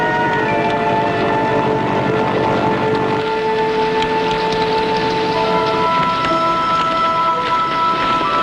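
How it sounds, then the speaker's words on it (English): Heavy winter rain with steady dense hiss and low rumbling thunder, loud and continuous, with tonal whistle-like bands layered over it and no talking. "Further Allied advances are hindered by the winter rains and mud."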